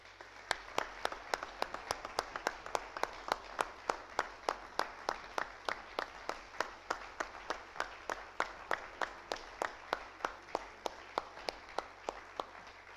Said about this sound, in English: Let's give Dr. Burgess a round of applause.